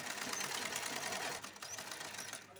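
Sewing machine stitching cloth onto a lining, a steady close whirring run that continues through the clip with a brief dip in loudness near the end.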